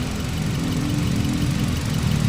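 A Hyundai Accent 2020 car engine idles steadily with the air conditioning on, a low even hum close by, a continuous drone without any voices.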